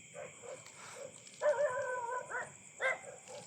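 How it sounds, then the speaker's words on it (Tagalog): Dogs bark in short bursts against steady insect-like buzzing, a few quick yaps then a couple of louder barks, moderately close. "May mga aso dito sa Minterio, mga idol."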